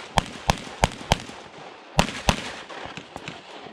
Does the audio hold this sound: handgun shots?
yes